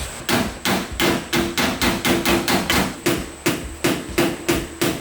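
A hammer strikes dented sheet metal on a work truck in a cramped space, over and over. The blows are sharp and ringing and come in a fast, fairly even rhythm with brief gaps, close and loud, and no one talks.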